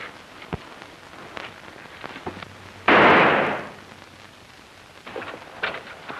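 A single pistol gunshot in a 1940 western film lands as one loud, sharp burst with a short ringing tail over a quiet background, with a few faint clicks before and after.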